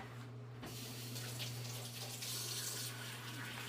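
Water runs steadily from a kitchen faucet while something is rinsed out, a faint close splashing stream under a low hum, with no talk.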